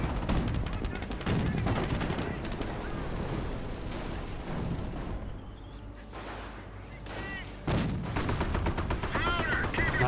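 Company of Heroes battle sounds: rapid bursts of heavy 50 cal machine gun fire mixed with louder explosive booms and dense gunfire. The shooting is loud and continuous, with a short lull in the middle.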